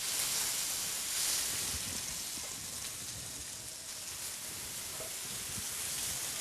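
Sweet potatoes fry in melted butter, making a continuous close sizzle with a soft hiss that holds steady throughout, and no one speaks.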